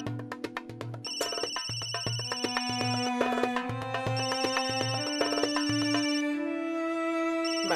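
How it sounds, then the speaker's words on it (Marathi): A telephone rings repeatedly in a steady pulsing pattern, loud and close, over a dense tonal background of music through most of the stretch. "फोन म्हणजे मॅडमचा फोन असणार"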